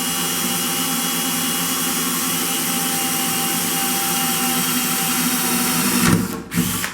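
A power drill runs steadily as its bit bores a small pilot hole through a frame, a continuous close whine that surges and cuts out near the end.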